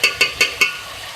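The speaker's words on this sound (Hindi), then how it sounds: "और इसको मिक्स करेंगे।" A spoon stirring Kashmiri red chili powder and bay leaves in a cooking pot for chicken aloo shorba, four evenly spaced scraping strokes close up, with no talking.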